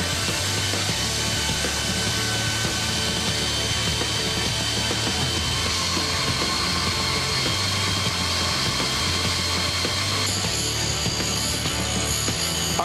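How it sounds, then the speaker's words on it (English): Sword blade being polished through sanding grits after heat treating and tempering, a loud continuous abrasive rasp of a power sander that holds steady throughout. "I just ran this blade through the grits, 120, 220."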